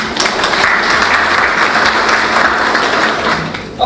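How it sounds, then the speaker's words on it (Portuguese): An audience applauds a lecturer after a talk on diet and cervical cancer prevention, a dense, steady wash of clapping that runs loud throughout and eases slightly at the end. "para vossos aplausos."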